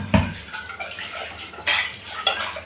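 Kitchen utensils and dishes clatter in a few sharp knocks, one near the start and two more later on, fairly close with no talking.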